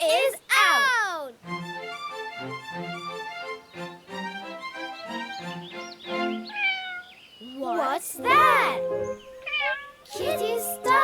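A cartoon cat meows several times, high and wavering, mixed in with someone talking and bright cartoon-like music.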